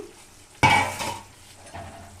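Marinated chicken frying in a pan for a Sunday chicken fry, starting quiet, then a sudden loud burst of sizzling and stirring scrapes that fades to a softer crackle with another brief stir.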